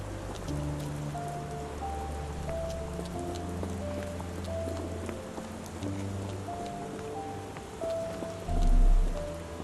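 Rain falls in the Sherlock Holmes The Awakened video game, a steady hiss of drops on a hard surface with scattered patters, under a low game music drone and a brief deep thud near the end.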